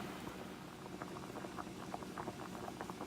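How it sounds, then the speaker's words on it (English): A pot of macaroni water at a steady rolling boil, with dense, continuous bubbling and popping heard close up and alone. "Alrighty, it's boiling nicely."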